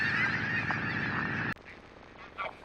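A dense flock of migratory geese in Hokkaido honks loudly and continuously, many overlapping calls forming a thick chorus that cuts off abruptly, leaving a quieter background with a couple of faint distant honks.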